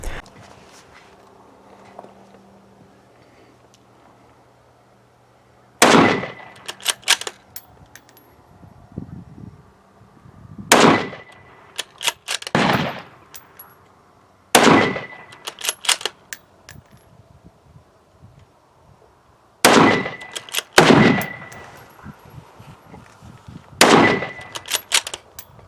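A Mossberg MVP Predator bolt-action rifle is fired standing on a range. Sharp, loud shots come in pairs and singles, separated by quiet pauses with faint bolt clatter and shuffling.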